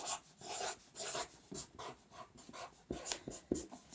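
A pen writes on a cardboard box in a quick series of short, scratchy strokes, close and fairly quiet, with brief pauses between the marks.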